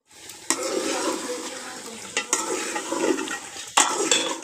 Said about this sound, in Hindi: और अब हम डालेंगे ये सब्जियां, इनको भूनेंगे। चम्मच दही और भूनेंगे।